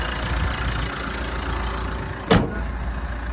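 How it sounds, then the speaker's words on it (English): A 2018 Mitsubishi Pajero Sport GLS diesel engine idles with a steady, even rumble close by. One brief thump interrupts it partway through. "There's that nice running diesel motor ticking over."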